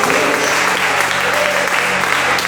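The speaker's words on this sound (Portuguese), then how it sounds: "Aplaude mais uma vez o nosso Deus." A church congregation claps together in a sustained, dense burst of applause, loud and close, filling the hall without a break.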